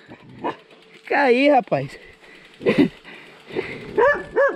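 A dog barks and yelps at a cyclist on a rural road, several loud close barks in bursts, while someone speaks calmly to it between and over the barking.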